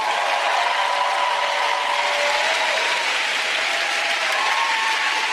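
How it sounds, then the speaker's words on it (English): Dense, steady clapping from a rally crowd, loud and sustained throughout with no pauses, a continuous wash of applause. "give them a round of applause, please"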